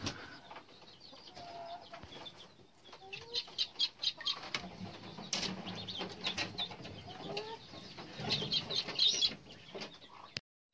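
Hens cluck and chatter nearby in short, uneven bursts, with occasional wing flaps and higher squawks over a quiet farmyard background.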